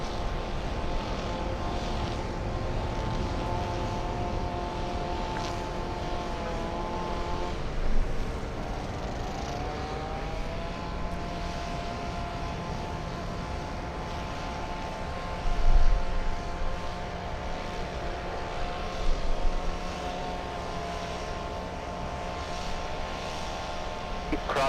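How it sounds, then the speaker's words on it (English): Delta airliner arriving at LAX from Haneda, a sustained distant jet engine roar with a droning tonal whine that swells slightly, heard from the airport side. "Delta 8 flying in from Haneda."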